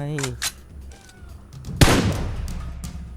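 Gunfire in PUBG Mobile, a few sharp shots including a loud close blast in the middle, mixed with a player talking over the game.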